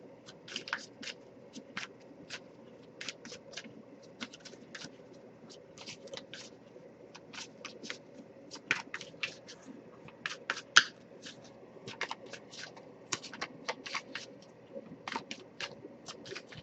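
A deck of oracle cards is shuffled by hand in quick, repeated bursts of crisp flicking and slapping, close and fairly quiet, in irregular runs over a still background.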